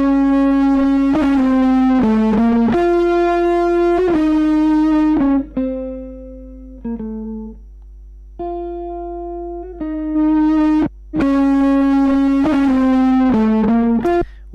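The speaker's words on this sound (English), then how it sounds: "watch the EQ as I play with the distortion drive" A distorted electric guitar plays loud, sustained notes and chords through a drive effect, its harmonic fuzz thickening and thinning as the drive is turned up and down, with brief gaps and quieter passages midway.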